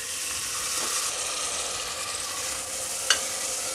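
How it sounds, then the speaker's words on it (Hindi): Onions sizzle in hot oil inside a pressure cooker, making a steady loud frying hiss with stirring scrapes and a brief sharp crackle near the end; no talking. "अब हम इसमें प्याज डालेंगे।"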